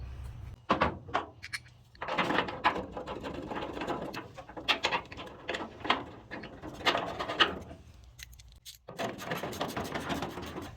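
Bolting a tailgate silencer part onto a 1966 Ford Bronco with a ratchet: bursts of quick clicking ratchet strokes and metallic handling noises, close and moderately loud, with brief pauses between runs.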